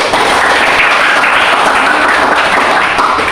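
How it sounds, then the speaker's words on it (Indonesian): Students applaud in a classroom during a relay-race lesson, a steady dense wash of clapping filling the whole stretch at close range with no talk over it. "kasih tepuk tangan"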